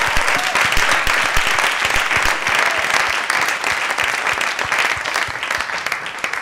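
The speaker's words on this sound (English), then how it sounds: "give him a round of applause." A live audience applauds the drummer at an onstage conversation with Kyle Abraham and Robert Glasper, giving loud, sustained and evenly dense clapping from start to finish.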